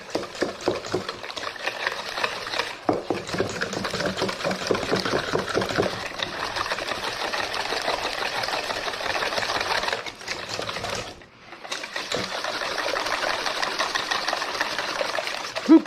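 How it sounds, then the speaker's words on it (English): A whisk beats clafoutis batter of eggs and melted butter in a bowl, giving continuous rapid scraping and sloshing that pauses briefly before carrying on, close and loud with no talking. "Now we're gonna whisk this all up"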